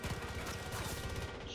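Gunfire in the video game Far Cry 5, a dense burst of rapid shots and crashing impacts that fills the moment loudly and continuously, alone without speech.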